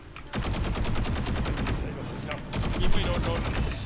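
Rapid automatic gunfire in a video game, with dense, fast repeating shots that run almost without a break, pause briefly, then rattle on loudly.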